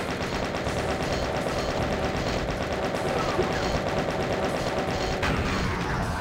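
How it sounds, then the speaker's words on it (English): A chaingun fires in the Voxel Doom 2 game, a continuous rapid stream of loud shots without pause, dense and close, with game sounds blended in. "I will now chain gun the Rachno."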